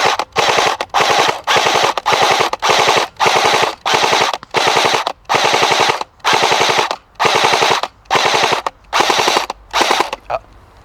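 Airsoft Thompson M1A1 emptying its magazine on full auto: about a dozen loud, close bursts of rapid mechanical rattling, each separated by a short pause, with no talking.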